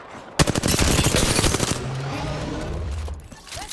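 Rapid automatic gunfire in a ranked first-person shooter match, a loud burst of tightly spaced shots up front that gives way to a continuing rumble and scattered firing.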